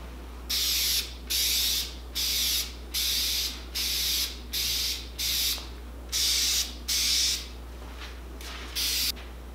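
Spray gun laying clear coat over plastic Chevrolet Silverado tow mirror covers, heard as about a dozen loud, even hissing bursts in steady rhythm, each separated by a short pause, with a low constant hum underneath.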